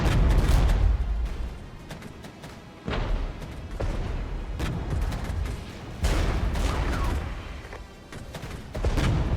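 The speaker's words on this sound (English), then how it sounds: "We'll do an artillery strike there that will catch the fire support and the T-55s." Artillery strike in the war game Regiments, targeting fire support units and T-55 tanks: a sequence of heavy booming impacts, several sharp blasts spaced a few seconds apart, each followed by rumbling decay.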